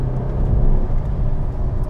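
Alfa Romeo GT with the 3.2 V6 Busso engine pulling hard in third gear from low revs, a loud, steady, full-bodied engine roar heard close inside the car throughout, with no one talking.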